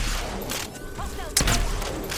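Gunfire crackles in the video game Apex Legends, bursts of shots and impacts over a constant noisy background, with a sharper hit partway through and a voice talking over it.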